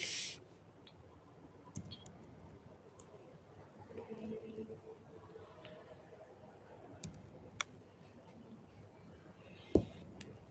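Computer mouse clicking while working in the Microsoft Azure portal: a few faint, sparse clicks scattered over a quiet room background, with one sharper click near the end.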